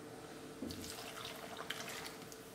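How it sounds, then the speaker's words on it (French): Water poured into a cooking pot for a Christmas fruit compote, a short, quiet rush of running liquid beginning partway through and continuing steadily to the end, with no speech. "On va rajouter les 20 centilitres d'eau."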